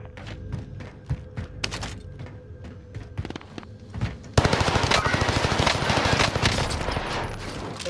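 Gunshots in Call of Duty Warzone start as scattered single cracks and thuds, then break into a loud, sustained burst of rapid machine-gun fire up close.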